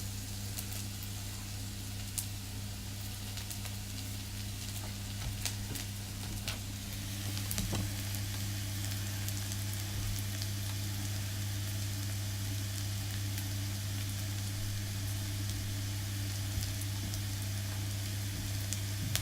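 Garlic and potatoes fry in a pan with a continuous even sizzle and soft crackle, steady and close, over a low constant hum, briefly getting a little louder partway through.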